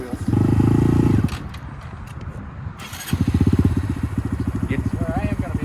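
A Honda Grom motorcycle engine revs in a short, loud burst, drops back, then settles into a rapid, throbbing putter close by, with a little background noise between.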